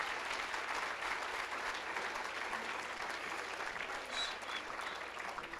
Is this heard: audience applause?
yes